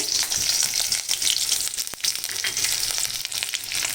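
Dried red chillies, slit green chillies and whole cumin sizzle and spit in hot oil, a loud continuous frying hiss with brief stirring scrapes, close by and without speech.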